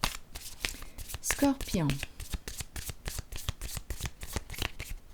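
Tarot cards shuffled and dealt in quick repeated riffles and flicks, a dense run of crisp card slaps under a woman's speech during a reading.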